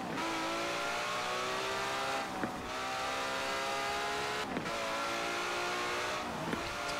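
Engine of a car in a racing video game revs hard and continuously, with brief dips at gear shifts or braking every two seconds and a steady high whine throughout, no voices.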